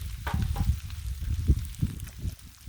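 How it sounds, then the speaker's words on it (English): Bacon grease sizzling on a griddle before pancakes, a low bubbling fry with soft irregular pops, close and moderately loud. "We've got some bacon grease on the griddle"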